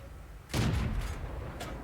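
A tank gun shot in a video game, destroying a wooden shed beside a house: a sudden close heavy boom followed by a rumbling crash and debris that linger for over a second.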